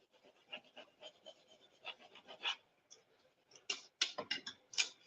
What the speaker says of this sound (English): now let's get my burnishing tool